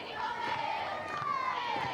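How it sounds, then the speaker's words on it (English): Softball crowd cheers and shouts to rally the Lopes, a steady mass of voices from a distance with no single voice standing out. "Crowd trying to rally the Lopes."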